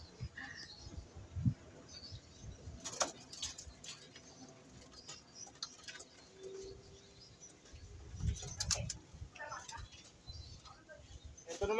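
Racing pigeons in a loft make soft, faint cooing calls with scattered bursts of wing flapping and rustling, quiet and close, while someone talks intermittently.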